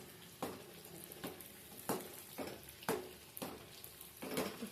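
Chilli idli pieces fry in a pan until crisp, a quiet steady sizzle punctuated by about six evenly spaced scraping stirs of a spatula, close by.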